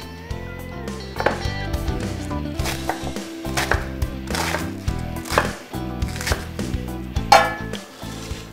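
A knife chops cabbage on a board in a quick, uneven series of close, sharp knocks, about a dozen or so. No one speaks.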